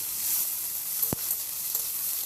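Tomato and chopped capsicum being stirred in a pan for a flattened rice pulao, a steady low sizzle with one sharp scrape of the spatula partway through.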